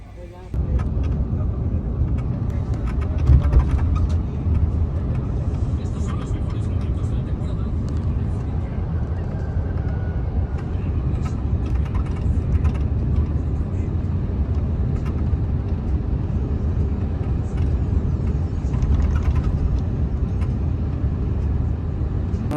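A bus engine drones steadily through a long road trip from Spain to Paris, a continuous low rumble with road noise that holds an even level throughout. No voices are heard over it.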